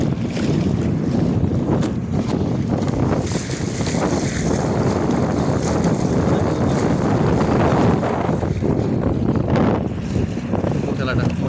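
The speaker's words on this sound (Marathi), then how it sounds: "आपण बघू शकता मोठ्या मोठ्या लाटा आहेत" Constant roar of big, rough waves on the flooded Narmada at Sardar Sarovar and gusting wind around a moving boat, loud and unbroken, with buffeting noise on the microphone.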